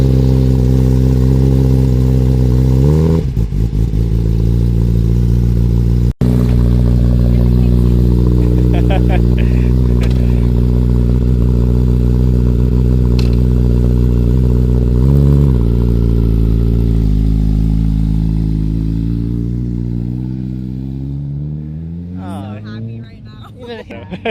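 A motorcycle engine in a navy blue and black finish starts for the first time and settles into a loud, steady idle with a few blips of revving, then tapers off toward the end as voices talk nearby.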